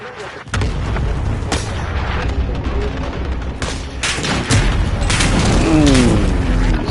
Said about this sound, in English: Bring it down an airstrike. Got your request. Cluster strike is active.